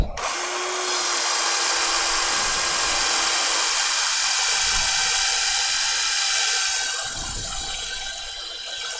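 A spinning wood lathe whirs steadily while a turner sands the piece through progressively finer grits up to 400, a continuous close hum with a gritty hiss that dips and changes near the end.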